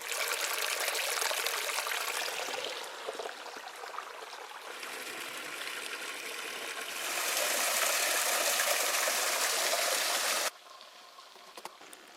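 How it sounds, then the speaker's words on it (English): A small waterfall pours into a canyon creek in Utah, a loud, steady broadband rush of flowing water heard alone that swells louder near the end and then drops abruptly to a quieter trickle. "I found this nice little waterfall"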